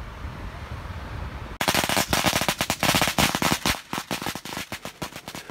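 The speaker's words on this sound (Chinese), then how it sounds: "突然这个周围都放起了鞭炮，我估计这也是泰国人的新年。" Firecrackers burst around a quiet beach in Thailand at midday during a New Year celebration, a dense irregular string of sharp loud cracks that starts abruptly and rattles on rapidly, like a long chain of bangers.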